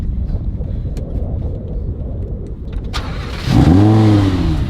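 A Lamborghini engine cranks and fires up after a stretch of background rumble, catching with a loud burst and quickly revving up and down close by.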